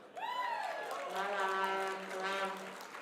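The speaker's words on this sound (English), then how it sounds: "I know how to get the air horn." A loud, sustained air horn blast with a bright, brassy tone, held for about three seconds over a murmuring crowd at a political convention.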